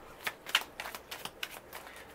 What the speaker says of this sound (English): I'm trying to shuffle them more quietly.